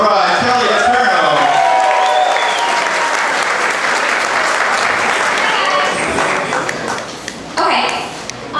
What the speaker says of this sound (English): Round of applause for Sister of the Bride, Kelly Eterno.